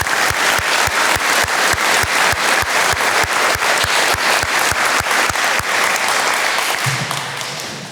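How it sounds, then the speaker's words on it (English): A crowd at a National Junior Honor Society induction ceremony applauds families and staff. Loud, sustained clapping runs throughout with a steady thumping beat underneath, easing off slightly near the end. "if we could give a round of applause for our families and our staff"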